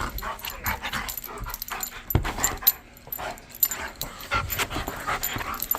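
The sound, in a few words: large dog whimpering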